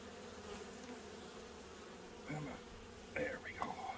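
Honey bees swarm over hive frames during a yard inspection, a steady close buzzing drone throughout. Brief handling noises and faint movement cut in near the end.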